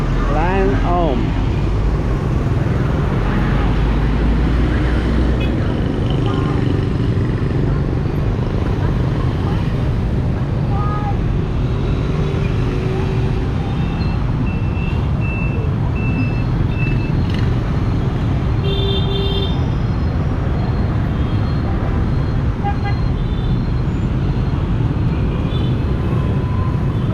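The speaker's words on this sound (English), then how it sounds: "A lot of traffic right now." Busy street traffic in Vietnamese Chinatown: a constant din of engines and passing vehicles, with occasional horn-like tones and a person talking over it.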